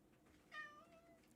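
A cat indoors gives one faint, short meow, followed by a sudden louder bump right at the end.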